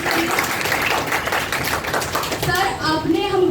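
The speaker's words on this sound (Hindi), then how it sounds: "सर के लिए एक बार जोरदार तालियां" A room of students at a certificate ceremony claps loudly for their teacher, a dense burst of hand claps filling most of the moment before a voice begins speaking near the end.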